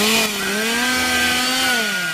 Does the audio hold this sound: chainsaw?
yes